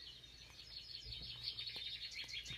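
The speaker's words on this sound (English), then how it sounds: "That must be the birds chirping." Baby birds chirp in a nest with thin, rapid, high tweets that run continuously at a low level, fairly faint and distant, with no one speaking.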